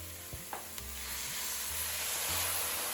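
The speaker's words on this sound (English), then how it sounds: "the flour's been frying in the vegetable for a couple of minutes" Vegetables and flour fry quietly in a pan for a chicken pot pie filling, a soft steady sizzle with a few scraping stirs near the start.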